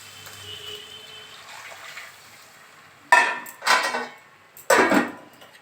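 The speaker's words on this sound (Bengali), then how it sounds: "এবার আমি এটাতে দুধটা ঢেলে দেবো।" Boiled milk poured into a pan of bottle gourd already fried in ghee, heard as three loud, splashy bursts of liquid with sizzling after a quiet kitchen stretch.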